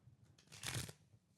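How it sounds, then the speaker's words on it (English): A deck of playing cards gets shuffled in one quick riffling burst that swells and fades at close range, with no talking over it. "So we're going to shuffle up these cards here, fellas. We're going to shuffle these bad boys up."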